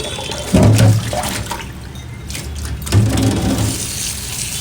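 Jute leaves are rinsed under a running tap, with two louder gushes of splashing water separated by a quieter trickle, close and clear.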